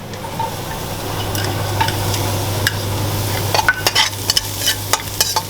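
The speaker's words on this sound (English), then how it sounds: "Once our beans are looking, our onions are a nice brown color, we're gonna add some garlic in" Garlic frying in a pan with browned onions and beans for masala beans, a steady close sizzle with a low hum underneath and bursts of stirring and scraping toward the end; no talking.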